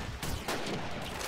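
A single Call of Duty 2 multiplayer gunshot cracks out close and loud, followed by a second burst, over dense battlefield noise.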